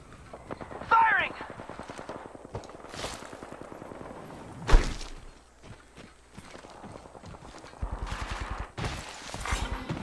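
Gunfire from a battle royale shooter, with bursts of rapid shots and single cracks spread across a steady in-game bed, one sharp loud report near the middle, and other players talking over it.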